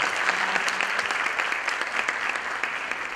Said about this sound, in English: Really a bigger round of applause for Sabina.